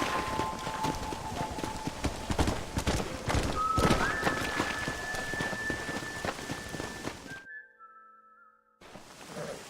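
Horse hooves clip-clop at a steady pace in Red Dead Redemption, under a sustained whistling tone and rain-like wash, then drop out briefly before resuming.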